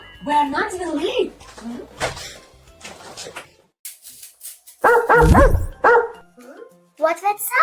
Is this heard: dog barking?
yes